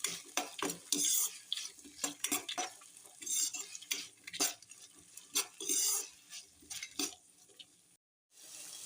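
Vegetables and semolina roasting for upma while a spoon repeatedly scrapes and clatters against the pan, giving irregular metallic strokes over a light sizzle, with a short pause near the end.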